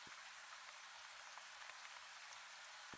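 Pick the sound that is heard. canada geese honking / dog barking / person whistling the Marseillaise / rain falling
rain falling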